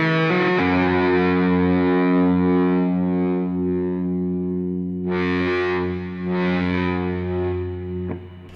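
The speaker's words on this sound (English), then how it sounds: "You got enough distortion in there to sink a battleship." Electric guitar with a Seymour Duncan pickup played through heavy distortion, a loud sustained chord ringing thick and saturated, with a couple of brighter accented strums midway and a fading end.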